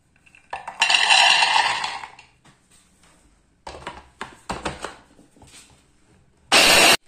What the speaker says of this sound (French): Je vais mixer les amandes.